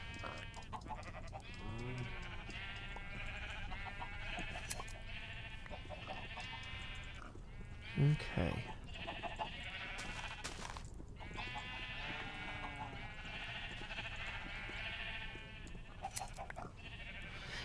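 In the Minecraft video game, a sheep gives one brief bleat in the middle of a long stretch while being sheared, set against steady background music and occasional game sounds.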